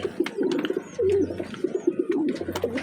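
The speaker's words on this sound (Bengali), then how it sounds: "একদম এক ঘর পায়রা আছে, দুটো পায়রা কিন্তু একই সাইজ আছে" A matched pair of Rampuri pigeons cooing close by in soft, repeated throaty coos with brief pauses, plus a few faint chirps and light rustles, with no one speaking.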